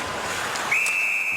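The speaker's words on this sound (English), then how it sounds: "Play whistle down as Ladd got a stick on it" During a Winnipeg Jets versus Detroit Red Wings ice hockey game, a referee blows one sharp, sustained whistle to stop play, piercing through the arena crowd's noise.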